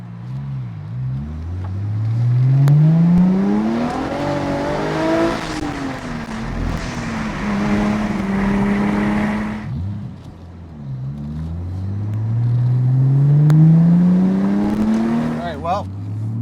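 A 2003 Aston Martin DB7 Vantage Zagato coupe with a 6-liter engine accelerates along a twisty road, its engine climbing through gears in repeated rising sweeps heard from the passenger seat, with faint talk between pulls.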